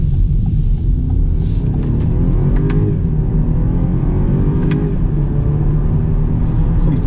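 A BMW X3 xDrive30i accelerates flat out, its engine a loud, steady drone heard from inside the cabin, rising through the pull with a brief dip around a gear change.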